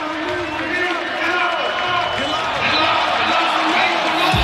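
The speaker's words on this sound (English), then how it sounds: "Crowd roaring here in Lincoln." Football stadium crowd roaring in Lincoln during a Rutgers versus Nebraska game, a steady, loud wash of crowd noise with scattered shouts and a radio announcer talking over it.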